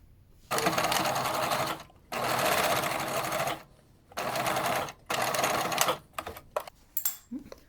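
A sewing machine stitches a seam on a fabric face mask in loud, sustained whirring bursts separated by short pauses, then ends with a few brief clicks and adjustments.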